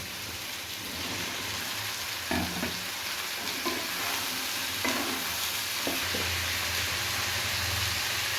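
Peas, potato and cauliflower sizzle in a hot pan while being stirred, with a constant frying hiss and several scraping stir strokes at uneven intervals, fairly close and with no talking.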